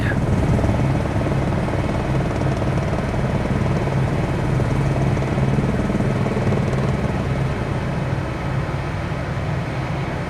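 A helicopter in Microsoft Flight Simulator 2020 gives a continuous, steady rotor and engine drone near a heliport, loud and unbroken throughout.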